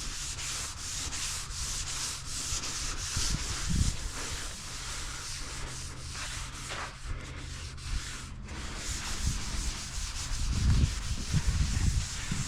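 Steady close scrubbing of an old rusty binder with a Scotch-Brite abrasive pad, a continuous rough rasping rub with slightly heavier strokes toward the end, no talking.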